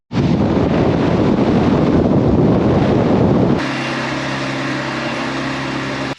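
Strong headwind buffeting a vehicle towing an offroad caravan across the Nullarbor, a loud continuous roaring rush that drops to a steadier, lower drone with engine hum partway through, no talking.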